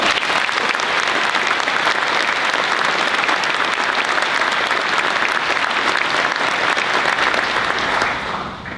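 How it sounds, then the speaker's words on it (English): An audience at a Marine Corps University academic awards ceremony claps steadily and enthusiastically for a band for several seconds, a dense, even wash of applause that tapers slightly at the very end. "a quick round of applause for our band here today"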